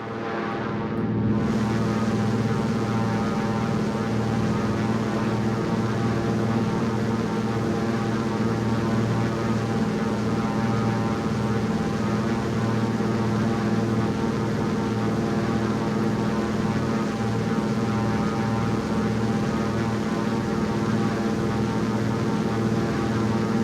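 Steady, loud drone of a DHC-2 Beaver propeller engine in a flight simulator video game, an unbroken rumbling hum that holds an even level throughout, with no talk.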